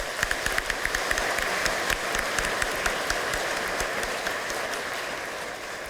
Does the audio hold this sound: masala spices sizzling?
no